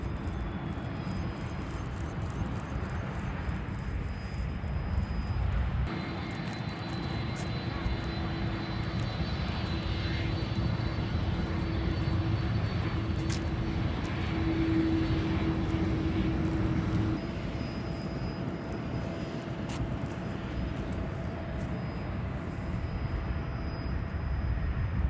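An Airbus A330 airliner at Tashkent airport gives off a continuous loud engine roar and whine close by, holding steady throughout, with a voice talking at moments.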